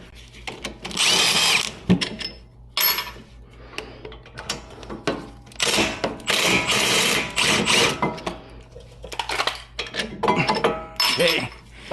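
A power tool backs out the 10mm Allen head bolts holding the brake caliper on a Porsche 911, in loud whirring bursts separated by short pauses, with metallic clinks from tools and parts in between.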